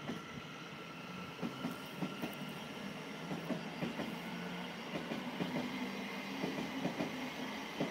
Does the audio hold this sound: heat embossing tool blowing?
no